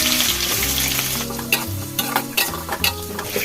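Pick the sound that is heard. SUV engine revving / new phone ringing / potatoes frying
potatoes frying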